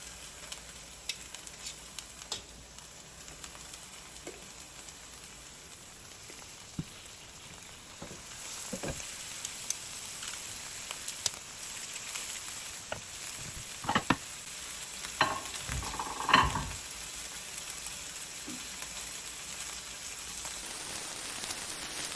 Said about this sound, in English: I'm going to sear it in batches so it doesn't overcrowd the pan